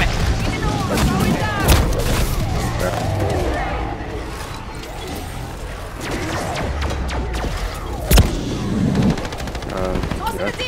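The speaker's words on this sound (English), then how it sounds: "Decoy grenade." Rapid gunfire and explosions from a decoy grenade in the Modern Warfare III Zombies video game, a dense continuous barrage with booms, mixed under loud game effects and player voices talking throughout.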